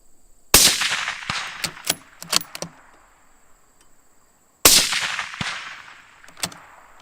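Two loud, sharp rifle shots from Remington ammunition, fired from a rifle fitted with a UUQ 4-16X44AO scope, several seconds apart. Each crack decays quickly, and light metallic clinks and handling noises fall between them.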